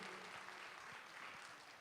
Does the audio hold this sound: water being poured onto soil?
no